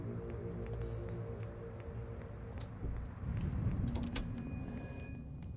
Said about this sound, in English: Why is this phone still ringing?